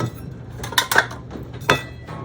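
Metal parts of a homemade camp stove being nested together for storage, a close series of bright clinks and rattles in quick, uneven bursts with no voices.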